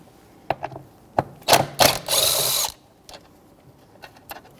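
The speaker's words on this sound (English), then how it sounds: "Now we have to disconnect this ground strap, which is a 10mm socket or wrench." A ratchet fitted with a 10mm socket loosens the ground strap bolt on a Jeep Patriot: a few sharp, separate clicks, then a quick burst of rapid ratcheting, close and clear, with no voices.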